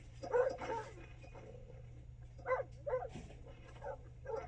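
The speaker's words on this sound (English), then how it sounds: "a volley of fierce barks came from the shed" A dog barks in short bursts, a couple of sharp barks early and a few more later, over a low steady hum.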